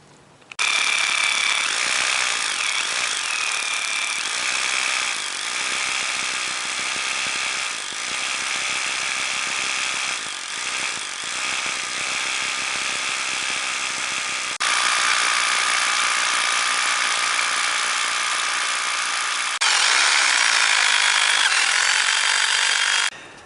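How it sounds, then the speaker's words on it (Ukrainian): A drill with an SR bit bores into reinforced concrete and meets the steel rebar inside. It gives a loud, steady, grinding whine that runs almost unbroken for over twenty seconds, with brief dips and a harsher section toward the end. "Зараз спробуємо ще ось просверлити тут."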